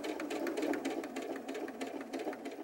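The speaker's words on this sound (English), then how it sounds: "Give it a nice clean top stitch right along the edge." A sewing machine top stitches along the edge of a fabric pocket on a doll backpack. The motor hums close and steady, with a quick, even needle rhythm and no talk.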